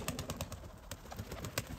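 Soft, repeated cooing of pigeons or doves close by, with rhythmic low pulses and a few light clicks throughout.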